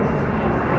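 A loud, low jet roar from an airplane passing overhead near Schiphol airport fills a brief moment with a steady rumbling drone.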